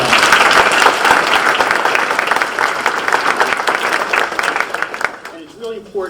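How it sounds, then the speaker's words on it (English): Sustained crowd applause for awardees at a January 2025 town hall, dense and loud throughout before thinning out near the end. "So let's give our awardees another great round of applause."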